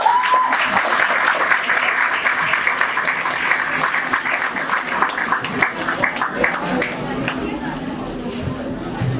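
Loud applause from the audience at a school academy function stage event, with clapping strongest at first and then thinning, mixed with crowd chatter and a few voices.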